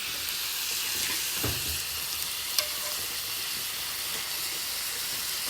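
Potatoes and beef bubble and simmer in a pot on a stove, a steady soft hiss of boiling and steam with no speech over it.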